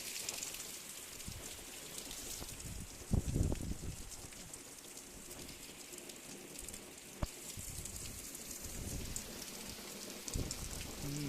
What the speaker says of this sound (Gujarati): બહાર છે વરસાદ ચાલુ